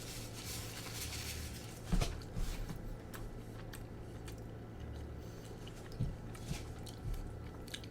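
Close bites into a big, thick burger followed by soft, wet chewing and squishing, quiet and irregular over a low background hum, with no talking.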